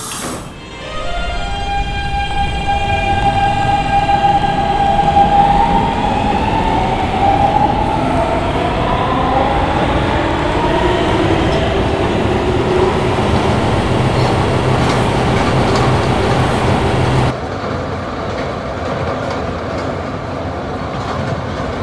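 An R160B New York D train with PST-3R propulsion runs at speed on the subway, a loud continuous rumble with rising and falling motor whine, the tone shifting abruptly near the end.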